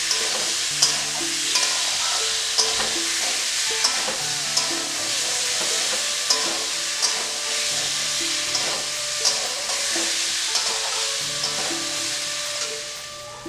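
Mustard paste, ginger, onion and green chili fry in a pan for pabda fish curry, a continuous close sizzle broken by regular spatula scrapes about once a second, with no voices.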